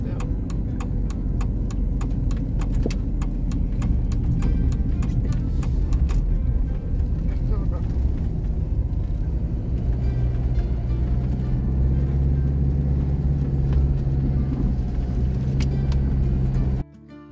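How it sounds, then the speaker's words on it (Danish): Two cars drive past on a mountain road in a ski area, making a continuous rumble of engines and tyres that stays fairly loud and steady, with faint rattling clicks early on. "Ja, kører to biler der."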